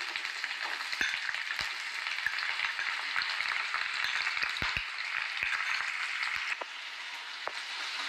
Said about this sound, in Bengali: এটা একটু লাল করে ভাজবো